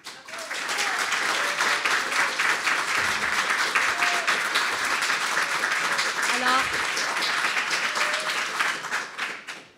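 An audience at a Longueuil mayoral election debate bursts into applause, a steady, full wash of clapping rising quickly and holding for several seconds before tapering off, with a few voices underneath.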